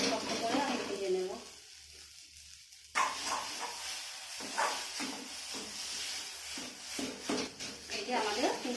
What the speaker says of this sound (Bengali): শক্ত শক্ত করে আমি ভেজে নেব।